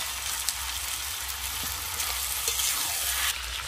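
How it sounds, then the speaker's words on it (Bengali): Meat sizzles as it goes into a pan with potatoes that were fried earlier, giving a steady, close, fairly loud crackle with occasional sharper pops and no talking. "এইবার আমি মাংসটা দিয়ে দিচ্ছি। আগে থেকে আলুগুলো ভেজে নিয়েছি"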